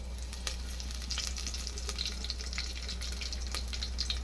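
A spoonful of cumin seeds and curry leaves crackle in hot oil as tomato rice is cooked, giving a faint, steady sizzle with small pops and stirring clicks over a low background hum, with no talk.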